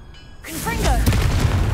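A Confringo blast spell from Hogwarts Legacy, a short casting whoosh followed by a broad rumbling explosion that swells after a brief near-silent start, with voice-like sweeping tones layered over the burst.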